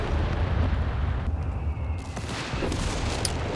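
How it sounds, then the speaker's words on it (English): An artillery barrage in Company of Heroes 3: a dense, continuous rumble of blasts and booms that rolls on without pause through the whole stretch. "Looks like they're going to use some zeroing artillery on this"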